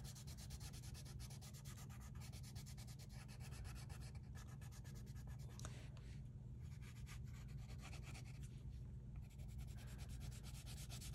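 Colored pencil shades paper in short overlapping strokes, giving a faint, continuous scratchy rubbing with a quick repeated rhythm and no talking.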